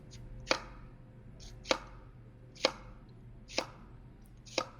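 Knife chopping through an onion on a cutting board while making Bolognese, five sharp, evenly spaced cuts about a second apart, close and clear over a quiet room.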